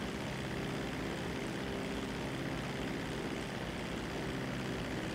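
A steady, loud, unbroken engine drone of an airplane flying in Grand Theft Auto 5 Online, continuous throughout with no speech.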